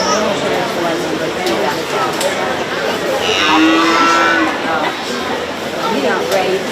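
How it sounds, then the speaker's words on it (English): A bottle calf at a county fair lets out one clear, drawn-out moo at close range partway through, against a busy background of crowd chatter and people talking nearby. "We have cows and calves."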